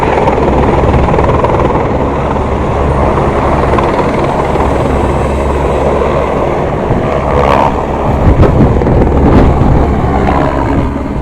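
A loud, steady engine roar with a dense rumbling drone fills the whole stretch, like a helicopter running nearby, with no voices.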